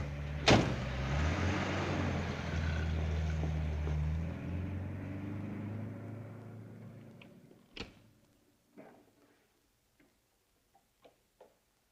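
A car engine runs steadily and loud for several seconds, then fades as the car is driven off to the garage, leaving a door slam and a few scattered clicks and taps in near quiet.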